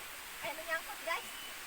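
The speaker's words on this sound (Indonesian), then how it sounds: "Oke guys, sekarang saya udah mendekati curugnya." Rushing water at the Pasir Jati waterfall, a continuous broadband roar heard from nearby, with brief faint voices over it.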